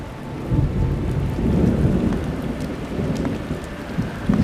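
Steady rain pours on surfaces during a storm at Epcot in Walt Disney World, with low thunder rumbling underneath throughout.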